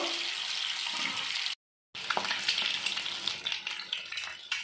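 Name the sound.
eggs frying in mustard oil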